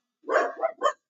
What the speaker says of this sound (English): the guy with his little dog is walking in front.